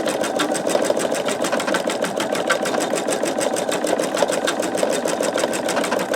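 A home embroidery machine stitches a sugar skull design, satin-stitching around the skull's edge with a fast, even mechanical chatter of needle strokes and a steady motor hum, close and unbroken, with no voices.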